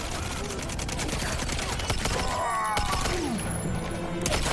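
Gunfire in James Bond 007: Quantum of Solace, a dense stream of loud game shots and impacts rattling across a noisy firefight, with bursts stacking on each other throughout.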